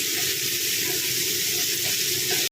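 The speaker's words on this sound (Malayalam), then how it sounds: "ഉള്ളി ഒന്ന് നന്നായിട്ട് വഴന്നു വരണം" Onions with curry leaves and a little salt sautéing in a pan: a steady, close, dense sizzle that holds without a break for the whole stretch.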